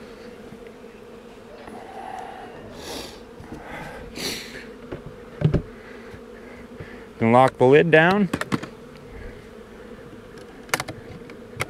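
Honey bees from a package colony buzzing around an Apimaye hive, a steady close drone with a few louder passes, while someone talks and a lid clunks.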